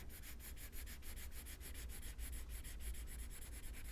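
A colored pencil in a putty beige shade rubbing lightly across paper, a close, quiet, steady scratchy shading sound made of quick repeated back-and-forth strokes with no voices.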